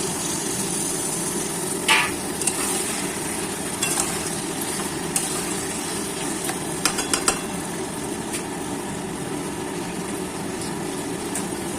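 Chicken with a generous amount of garlic paste frying in a pan, giving a steady, even sizzle throughout, with a few brief clinks of a spoon against the pan.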